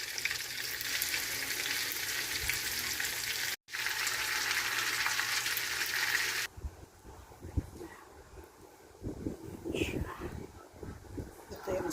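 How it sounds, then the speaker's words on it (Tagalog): Garlic and marinated milkfish frying in a pan, a loud steady sizzle for about six seconds with a brief cut, then quieter crackling and handling noise, with faint voices in the background. "Piniprito na."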